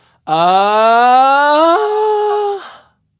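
A close, loud sung tone rises gradually, then suddenly flips into a thinner, lighter register as the vocal cords lack tension, and holds briefly before stopping.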